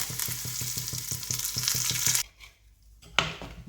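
Dried red chillies and curry leaves hit hot mustard-seed tempering oil for a mango curry, giving a loud, crackling, rhythmic sizzle that cuts off abruptly, then a short second burst of frying.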